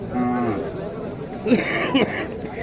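A cow with her calf moos at a village cattle market in Naogaon, Bangladesh, a low drawn-out call followed by two shorter lows, close by amid background chatter of the crowd.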